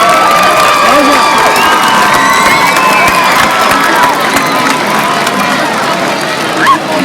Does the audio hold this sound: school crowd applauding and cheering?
yes